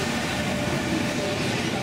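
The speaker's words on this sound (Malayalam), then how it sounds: "4-ാം നമ്പർ പ്ലാറ്റ്ഫോമിലേക്ക് ആ ട്രെയിൻ വന്നു കഴിഞ്ഞു." A train pulls in alongside platform 4 at an Italian station, a steady broad rumble holding constant throughout without pause.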